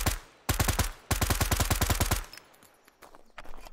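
A rifle fires on full auto in the video game Road to Vostok: three loud, close bursts of rapid evenly spaced shots, the longest lasting about a second, followed by quieter clicks and handling sounds.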